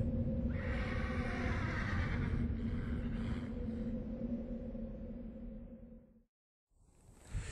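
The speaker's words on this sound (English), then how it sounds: "you can still hear her neighing, calling out for her master." A horse whinnies in a long, loud, wavering neigh that rises and trails off, followed by a brief silence and a short breathy snort at the end, with no voices.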